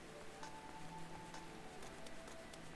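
Steady soft rainfall in Final Fantasy XIV at night, a faint even patter with a few brighter drops, heard alone with no voices.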